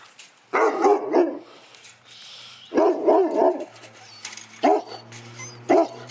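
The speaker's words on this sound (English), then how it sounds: "Well, this dog is huge." A big dog barks in deep, loud bursts, first a quick cluster of woofs, then another cluster, followed by two single barks with pauses between.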